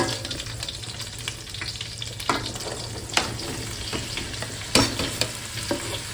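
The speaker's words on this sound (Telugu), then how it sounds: "సో ఇవన్నీ వేసుకుని ఒకసారి మిక్స్ చేసేయండి" Vegetables and masala spices sizzle and fry in a pan for sambar rice while a spoon stirs them, with scraping and clinking hits over a constant close sizzle. No voices are heard.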